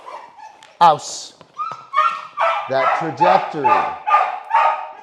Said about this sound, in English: Sorry about the barking, guys.